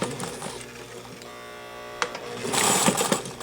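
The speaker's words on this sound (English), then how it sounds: "So we're going to sew all the way to the bottom, and we're going to back tack" A sewing machine sews a French seam and back tacks at the end, its stitching a steady mechanical hum with a rhythmic buzz, followed by a brief click and a louder burst of fabric rustle.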